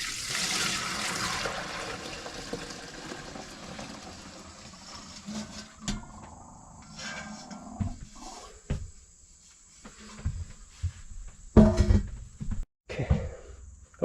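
Liquid gushes as a pre-mixed solution is dumped into a container of water, a loud splashing pour that gradually tapers into trickles, followed by scattered knocks and handling clatter nearby.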